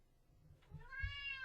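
A cat meows from a bedroom, a short faint call followed by a longer, rising tonal meow, heard alone without talking.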